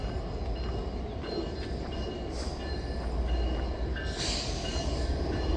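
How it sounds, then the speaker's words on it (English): A train arriving at Harpers Ferry rumbles steadily past, close and loud, with a faint metallic squeal of wheels on the rails. "we got a train coming into Harper's Ferry"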